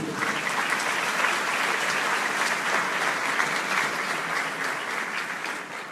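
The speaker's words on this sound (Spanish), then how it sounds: "Dale un aplauso fuerte al Señor por eso." Sustained applause from a church congregation during a sermon, steady and moderately loud for several seconds, with no talking over it.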